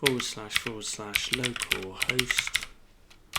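A URL is typed on a computer keyboard as a quick run of close key clicks and taps beneath a person speaking, fading out toward the end.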